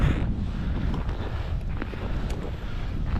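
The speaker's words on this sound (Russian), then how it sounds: "Вау, как здесь ветрено." Strong gusts buffet the microphone on an open hilltop, a dense low roar of wind that stays loud and unbroken with no voices.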